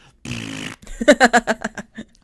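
A drawn-out, buzzy fart-like noise, apparently a person's mouth imitating flatulence, runs for about half a second loud and close, followed by a string of short rhythmic bursts.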